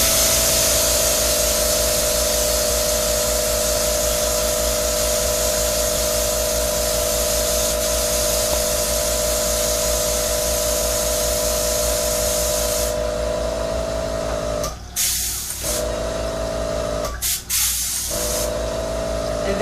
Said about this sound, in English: So you could airbrush your cake pops in all different types of colors.